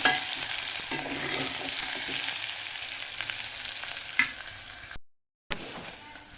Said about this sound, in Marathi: काजू आणि बदाम पण टाकून घेतलेत आता आणि मस्त परतून घ्यायचे आता हे